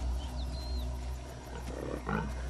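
Young lion cubs over a year old, out on the prowl in the African wild, give rough growling roars against a steady outdoor ambience, with a louder burst near the end.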